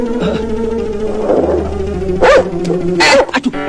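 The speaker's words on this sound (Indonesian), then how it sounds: "anjing gonggong" A dog barks and yips in a few sharp bursts, near and fairly loud, over a steady low hum, with whimpering tones between the barks.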